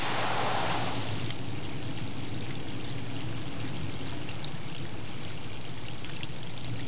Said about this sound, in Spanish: Este escurrimiento de aguas residuales llega hasta las playas de Tijuana.